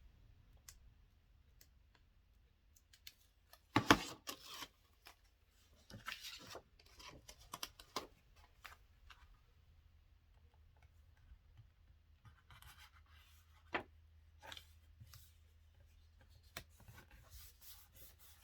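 A bone folder creases paper for a scrapbook album, making soft, intermittent rubbing and scraping strokes with a few light clicks in a quiet room.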